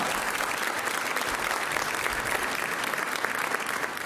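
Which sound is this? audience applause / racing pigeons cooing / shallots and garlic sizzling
audience applause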